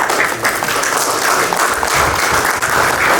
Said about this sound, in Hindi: मैं चाहूंगा कि सब लोग एक बार खड़े होकर इनको एक तालियों से स्वागत करें।